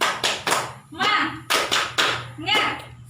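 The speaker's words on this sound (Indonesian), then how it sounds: "Ya, kita tepuk semangat dulu." A group of women in a nutrition and health class performs the tepuk semangat rhythmic clap, close and loud, in short patterned bursts of claps and taps alternating with chanted voices.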